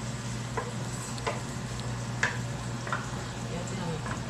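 Food being stir-fried in a wok in a home kitchen, a soft steady sizzle with a few light scraping and tapping strokes of the spatula, while people chat nearby.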